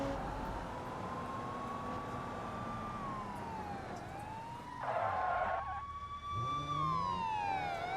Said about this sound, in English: Sirens do get a little bit annoying to listen to for